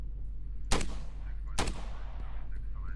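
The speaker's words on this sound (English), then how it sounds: "You can shoot their tyres out now." Two sharp gunshots about a second apart, fired at AI cars' tyres in the police game Flashing Lights, each crack loud and close with a decaying tail over a steady engine-like rumble.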